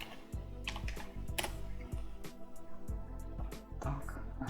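Fingers type a search query on a computer keyboard: a quick, irregular run of close, crisp key clicks and taps with short pauses, no voice over them.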